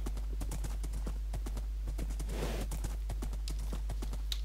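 Horses' hooves clip-clopping in a Lord of the Rings video game, a steady stream of hoofbeats from several horses at moderate distance, with a brief whoosh midway.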